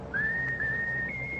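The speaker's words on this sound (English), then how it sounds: "How about whistling the tune that you like best of all?" Someone whistles a short tune, a clear single sustained note that steps up in pitch near the end, close and alone against a quiet room.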